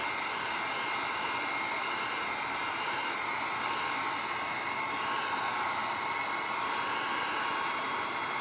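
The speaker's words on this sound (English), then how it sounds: "Let me put a little heat on these and kind of dry them a little bit" Heat tool blowing steadily over painted craft pieces for a bunny spring craft made from book pages, a constant close, even rushing whoosh with no pauses and no voices.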